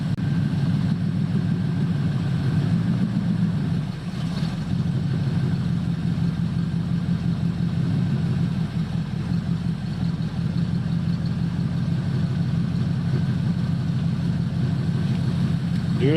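A 1976 Chevrolet C10 squarebody pickup engine idling steadily and loudly up close, a continuous low rumble with one brief dip partway through and no voices.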